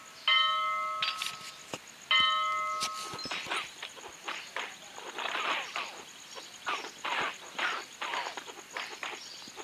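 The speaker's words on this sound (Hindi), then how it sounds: "घंटी बजाओ, घंटी बजाती" Two bright ringing bell tones in the LEGO Indiana Jones video game, each a clear chime, followed by a run of clattering taps and knocks at moderate volume, with no talking.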